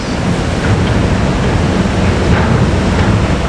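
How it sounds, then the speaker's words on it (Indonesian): Heavy rain pours near a river bridge where large cranes repair a dam, a loud, dense and unbroken wash of noise with no pauses. "Ini dia, kita bisa amati hujan deras."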